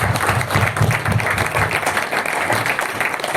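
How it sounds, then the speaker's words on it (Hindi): Sustained audience applause at a gathering on breast cancer recovery, a dense, even wash of many hands clapping at once, close and fairly loud for the whole stretch without a break. "तो इनके लिए जोरदार तालियां होनी चाहिए"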